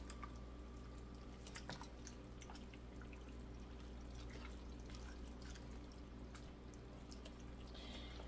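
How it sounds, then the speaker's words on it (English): A pot of hearty taco soup being stirred, giving faint, wet sloshing and dripping sounds over a steady low background hum. "we're just gonna give it a good old stir"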